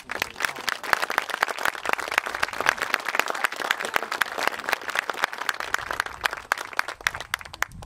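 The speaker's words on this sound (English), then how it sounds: "I think they need a round of applause" A crowd at a library groundbreaking ceremony applauds its board members with brisk, crackling clapping, many sharp individual claps standing out in a lively, continuous round lasting several seconds.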